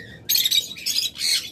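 Budgerigars at a bird sale chirp in quick, bright, high squawky bursts, two or three short flurries close by over a faint background murmur.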